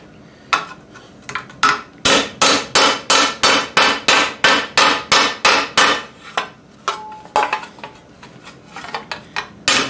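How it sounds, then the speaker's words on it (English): A nylon-faced hammer beats a steel armour greave over a stump in a quick, even series of sharp close metallic strikes, pausing briefly before a looser run of blows. "Just hammer it home."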